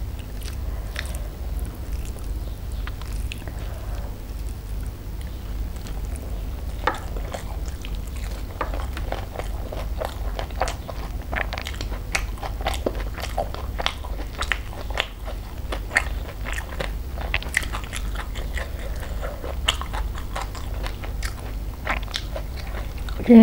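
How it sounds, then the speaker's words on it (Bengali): Someone eats a home meal of spicy prawn curry mixed with rice, with soft close chewing and wet mixing sounds continuing steadily throughout. "চলো এবার খাই চিংড়ি মাছের কষাটা দিয়ে, মশলাটা দিয়ে মেখে নিই।"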